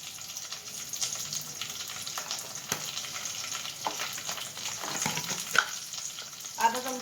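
Mustard seeds, asafoetida and chili temper in hot oil, crackling and sizzling close up for several seconds, with a few sharper pops and stirring scrapes near the end.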